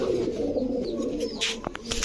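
Gola pigeons coo in a loft, low soft rolling calls close by, layered with faint chirps and a few sharp clicks and rustles toward the end.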